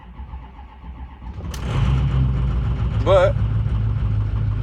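A Ford 6.0 Powerstroke diesel truck engine cranks and starts midway, then settles into a steady, loud, rumbling idle, with a brief spoken word and voices under the engine.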